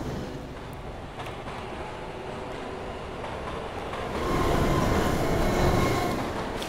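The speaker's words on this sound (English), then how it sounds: "This train's going fast." A fast train rushes past in the horror video game UnderHell, a steady low rumbling roar of wheels and carriages that swells louder toward the end, with no talk over it.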